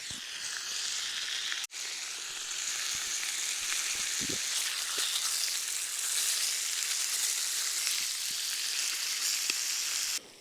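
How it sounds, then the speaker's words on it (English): Dry cured back bacon frying in a pan at a Scottish beach camp, a constant close hiss and crackle of fat with a brief clatter near the start and no speech. "I've got a pan here ready to cook up some of this lovely dry cured back bacon"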